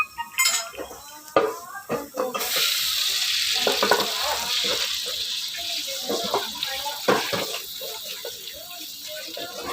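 Eel stir-frying in a little hot oil in a pan for a spicy stir-fry: after a few clinks of utensils, a loud, steady sizzle starts and continues with scraping stir sounds and a faint voice now and then.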